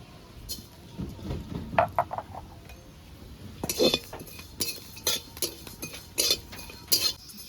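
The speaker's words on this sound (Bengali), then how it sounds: "এবারে গোটা মৌরিগুলো ভেজে নেব।" Whole fennel seeds dry-roasting in a pan for a raw mango pickle, with irregular clinks and scrapes of a spatula against the pan and seeds rattling as they are stirred.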